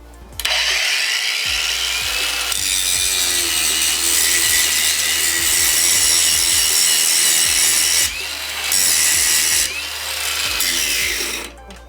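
A REVOLT cordless angle grinder runs at its second speed, cutting or grinding wood with a loud, steady abrasive whine that holds for most of the stretch, dipping briefly twice near the end before surging back.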